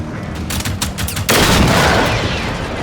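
Rapid gunfire crackles in Generation Zero as shots strike the gas tank on a robot's back, a dense burst of reports that thickens into a loud continuous rattle partway through.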